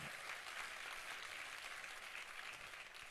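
Steady applause from a crowd, a continuous wash of clapping that holds at an even level throughout.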